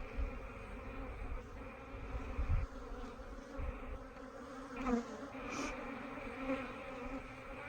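A dense, steady buzz of many honey bees droning together close by in a hive, with small swells and flickers, no voices.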